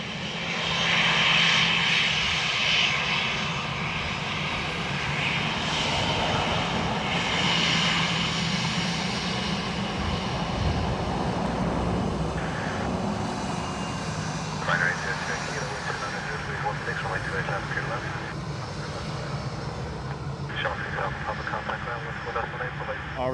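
A jet airliner rolls out after landing at Dublin Airport, its engines roaring loudly as it brakes and then easing into a lower, steadier rumble, with a voice talking over the noise throughout.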